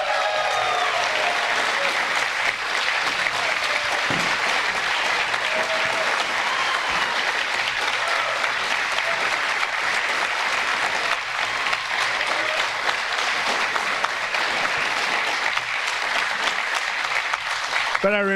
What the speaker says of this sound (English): I got the greatest applause of the whole campaign